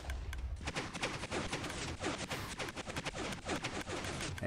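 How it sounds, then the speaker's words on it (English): Rapid bursts of mechanical clacking as video game pistons fire to shove a row of logs back, dense overlapping impulses running the whole stretch at moderate level with no talking. "the pistons out at the end there push all these logs back so that there are no gaps"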